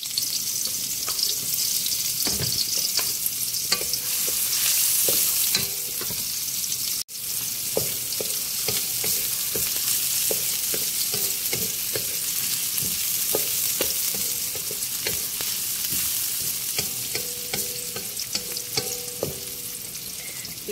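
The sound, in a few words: white and red onions frying in hot oil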